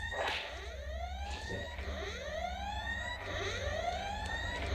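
Wailing sirens sweep up and down repeatedly in a film scene from Enter The Dragon, several overlapping rising tones, moderately loud over a low background rumble.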